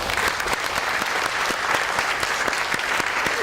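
Audience applause welcoming a speaker at a historical society lecture, a steady crowd of clapping hands filling the room without pause.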